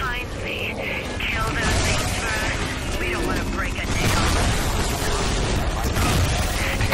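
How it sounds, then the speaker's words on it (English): Dense, loud combat in the game Shadow Warrior 2 with rapid blasts and explosions layered over music and effects, continuous and chaotic throughout. "Explosion."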